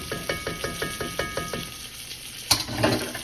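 A spoon stirs jerk seasoning into pasta sauce in a pan, giving about seven rhythmic wet scraping strokes with a soft sizzle, then a single sharper knock, close and alone.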